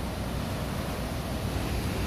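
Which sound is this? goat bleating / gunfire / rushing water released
rushing water released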